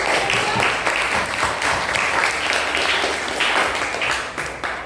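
Applause in a classroom lesson: dense, steady clapping from a group of students filling the whole stretch, loud and close, tapering slightly at the end.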